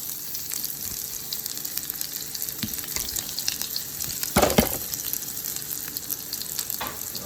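Fresh garlic and onion fry in butter and corn oil for a pork stir fry, giving a steady crackling sizzle close by, with a brief louder burst of stirring midway.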